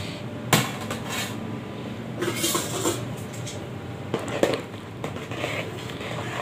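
Rice being stirred in a cooking pot, heard as a few sharp metallic clanks and scrapes of a spoon against the pot over a low, quiet background, with no speech.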